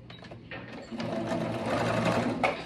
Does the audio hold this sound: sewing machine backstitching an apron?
yes